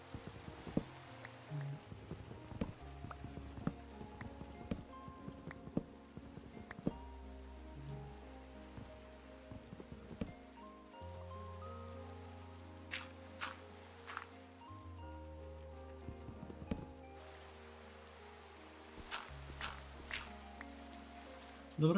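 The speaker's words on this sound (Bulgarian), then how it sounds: "Да, наистина тук вали." Rain in Minecraft falls as a steady soft patter through a survival session, joined by scattered clicks from block breaking and placing, with a low game music drone underneath.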